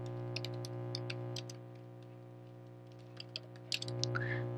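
Quick bursts of clicking keystrokes on a computer keyboard, close and fairly quiet over a steady electrical hum, with pauses between flurries and no speech.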